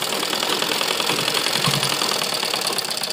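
A sewing machine stitches a kurta sleeve for a school uniform, running in one continuous fast mechanical whir and rattle, close and steady throughout with no pauses.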